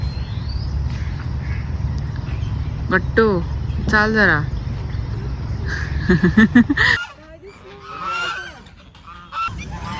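Ducks or geese at Rankala lake honk and quack loudly and repeatedly in the foreground. Outdoor background noise runs under them, and a person speaks briefly near the end.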